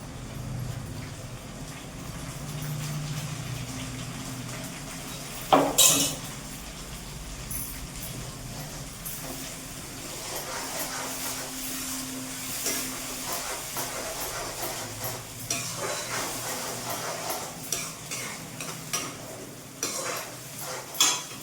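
Ground tomato and garlic paste sautéing with onions in a pan for fish curry, a steady low sizzle and hiss running throughout, with a sharp clatter of utensil against the pan partway through and occasional light scraping.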